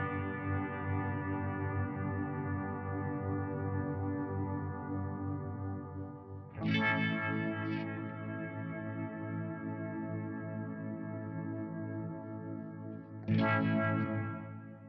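Electric guitar run through a Nux Atlantic hall shimmer reverb with decay turned all the way up, sustained washy chords ringing on with long smeared tails and two brighter strums renewing the wash, no talking.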